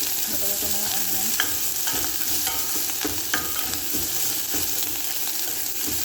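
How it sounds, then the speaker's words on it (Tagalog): Chopped onions sauté over low heat and are stirred in a pan, with a continuous close sizzle broken by frequent clinking, scraping spoon strokes. "Haluin lang natin siya guys at na low fire at hayaan natin siyang mag-translucent"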